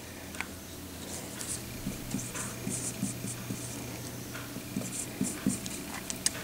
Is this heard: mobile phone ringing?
no